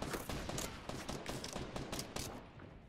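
Rapid bursts of video game gunfire crackle in quick succession, dense and loud for most of the stretch before trailing off near the end.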